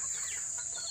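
Backyard farm chickens let out a brief cluck over a steady high-pitched background tone, soft and a little distant.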